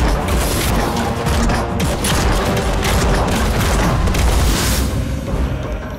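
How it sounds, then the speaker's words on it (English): A multi-cannon in the video game Nosgoth fires trios of smaller bombs, producing a dense, continuous barrage of loud booms and crashing blasts with no pauses. "It fires a trio of smaller bombs simultaneously for less individual damage"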